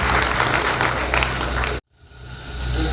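Loud, dense applause from an audience welcomes a guest speaker at a World Environment Day event at an ashram in Bhopal. It cuts off abruptly, then quieter, fainter room sound with light clapping or murmur rises again.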